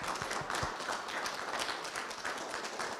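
Small group clapping at a COVID-19 vaccination event in Chicago, a soft, sustained patter of hands heard at a distance.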